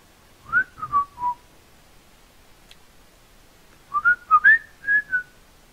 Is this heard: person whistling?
yes